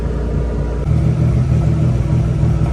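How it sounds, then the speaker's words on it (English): A car with a Vortec engine and a bypassed fuel pump control module idles close by, a steady low rumble that thickens slightly partway through and then holds even. "the car's been idling for quite a while now"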